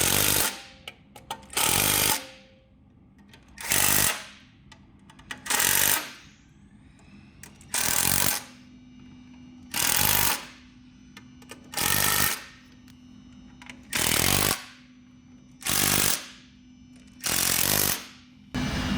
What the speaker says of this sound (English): Once you have installed the 10 30mm self-tapping screws, you can then tighten all of them.